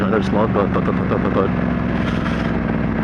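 A motorcycle's exhaust rumbles steadily beneath someone talking close by, the low engine drone continuing alone after the speech ends.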